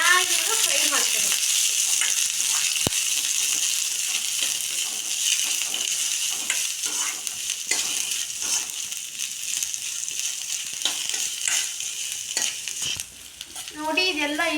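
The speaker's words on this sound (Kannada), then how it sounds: "ಇದನ್ನು ಹಾಕಿ ಇದನ್ನು ಚೆನ್ನಾಗಿ ಫ್ರೈ ಮಾಡ್ಕೋಬೇಕು" Half an onion frying in a pan for a quick chutney, a steady crackling sizzle with frequent spatula scrapes and clinks, and a short vocal-like sound at the start and end.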